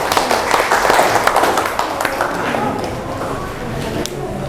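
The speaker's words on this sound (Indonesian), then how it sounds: "Oke, kita kasih tepuk tangan" A secondary-school economics class applauding together, a dense burst of many hands clapping at close range that gradually thins and softens, with voices mingling in the room behind it.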